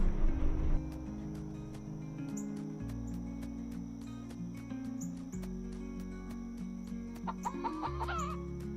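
Chickens clucking around a farm yard, steady low murmuring calls with a few sharper squawks, close by and continuous with faint insect chirps behind.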